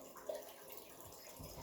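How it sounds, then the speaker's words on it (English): Hot water poured aside from a gongfu vessel while steeping 2012 Yunnan raw pu-erh tea, a faint, steady liquid trickle lasting under two seconds, with no talk. "So I'm going to pour that aside."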